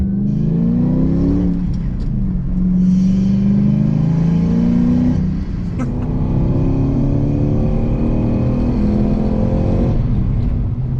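Engine intake noise played through a car stereo inside a vehicle fills the cabin with a loud continuous roar that swells and drops as it revs, with rising and falling harmonic sweeps.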